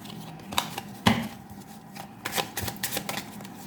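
Handmade tarot cards are shuffled up close, giving quick papery riffles and soft slaps in irregular bursts, fairly quiet against a still room.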